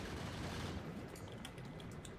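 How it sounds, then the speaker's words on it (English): Gun turrets in Factorio fire in a dense, continuous rattle of automatic shots, steady and fairly loud with no talking. "Angry turrets."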